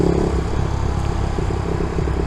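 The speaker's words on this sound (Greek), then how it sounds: "Η εξάτμιση κάνει ωραίο ήχο, δεν φωνάζει." A Honda GTR 150 motorcycle with a 62mm setup runs with a steady, continuous exhaust drone, close and fairly loud, a smooth hum without sharp revs or loud barking.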